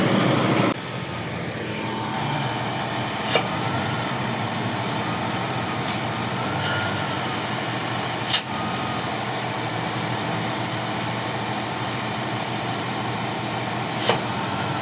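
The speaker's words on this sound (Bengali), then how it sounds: "এই যে এদিকে মেশিন দিয়া আলকাতরা দেয়" A road machine spraying tar in Kuwait runs with a loud, steady engine drone that stays constant throughout, broken only by a few sharp brief clicks, with no voices.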